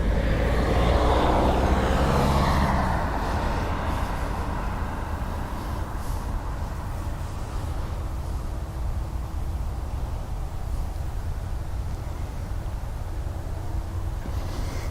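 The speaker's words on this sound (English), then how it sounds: "Taxiing from right left behind you now" An airliner taxiing at Dublin Airport gives off a steady, moderately distant engine whine and rumble, louder at first and then settling into a constant drone.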